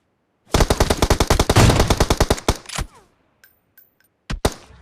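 Rapid gunfire from an AWM sniper rifle and other weapons in the mobile game PUBG Mobile: a dense, loud burst of shots for about two seconds that thins out, then brief scattered shots and a final sharp double report.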